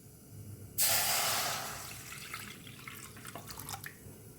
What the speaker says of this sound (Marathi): आता ह्यामध्ये आपण पाणी घालूया